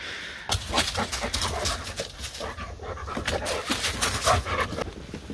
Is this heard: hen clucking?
no